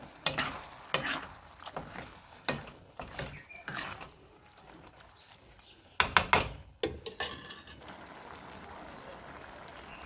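A wazwan dish frying in a pan with added soup, with repeated scraping stirs and bursts of sizzling that come in clusters, then a steady low hiss of frying near the end.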